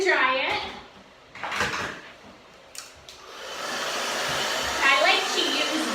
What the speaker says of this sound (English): Now we're going to dry it.